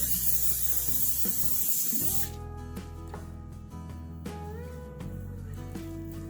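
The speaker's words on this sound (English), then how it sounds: "to this I'm going to spray some oil." Loud hissing spray from an aerosol of oil onto a baking tray for about two seconds, followed by quieter background hum with a few light clicks.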